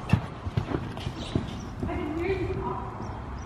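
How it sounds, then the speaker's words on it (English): A horse's hooves clip-clop in a few uneven steps at a barn, close and fairly clear, with people talking over it. "It's because Storm's like a funny horse."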